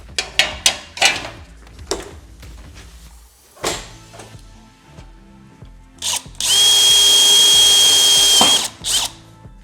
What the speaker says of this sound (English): We're going to drill a 1/8 inch hole in these 4 locations in the step